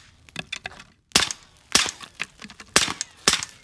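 A Daniel Defense pistol-caliber carbine fires at targets: four or five sharp, loud shots spaced unevenly about half a second apart, each with a short crack, plus a few quieter clicks before the first shot.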